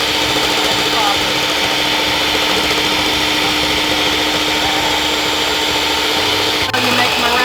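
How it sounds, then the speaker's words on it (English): An electric hand mixer runs steadily, whipping egg whites until frothy for macaron meringue, a loud continuous motor whine that holds throughout with a brief dip near the end. "She's going to beat it until it is frothy."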